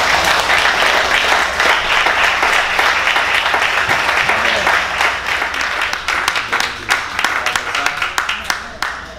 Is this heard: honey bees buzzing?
no